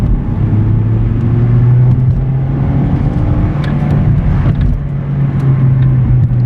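A 2016 Kia Rio with a 1.6L engine and a low-power fault is driven hard, its engine droning steadily and loudly under a deep road rumble, heard from inside the car.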